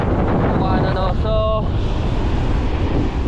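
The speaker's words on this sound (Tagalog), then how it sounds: "So malakas lang ang hangin." Strong wind buffets the microphone on a sea shore, a loud continuous roar with crashing surf beneath and a brief voice partly heard through the gusts.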